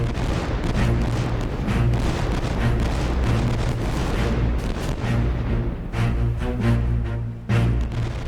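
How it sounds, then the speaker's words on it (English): Naval cannon fire at the Battle of Trafalgar as the French 74-gun ship Fougue fires ranging shots toward Royal Sovereign, a loud, continuous thunderous rumble punctuated by repeated heavy booms. "The gunfire starts at noon, with the French 74 Fougue firing ranging shots towards Royal Sovereign."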